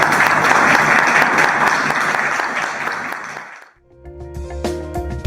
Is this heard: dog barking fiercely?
no